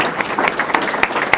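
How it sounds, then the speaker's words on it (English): Audience applauding panelists at the close of a program, a brief burst of many hands clapping with a few sharper claps standing out, close and moderately loud. "let's give our panelists a round of applause"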